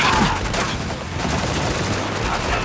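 Dense gunfire in the video game Spec Ops, a continuous loud fusillade of rapid shots and booms with no pause throughout.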